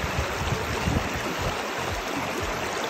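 A river on the Appalachian Trail rushes and splashes in a dense, steady wash. The water is close by and loud, with no voices over it.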